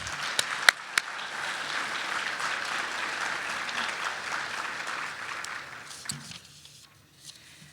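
A luncheon audience applauds together, a steady wash of many hands clapping at moderate distance with a few sharp nearer claps early on, then thinning out and fading toward the end.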